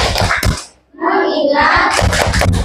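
Schoolchildren in a classroom perform a rhythmic clapping chant, with quick patterned claps and children's voices chanting along loudly and close by.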